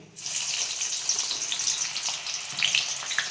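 Onion dropped into hot oil for homemade ayurvedic hair oil, a bright crackling sizzle that starts abruptly and spits steadily throughout, with no voices.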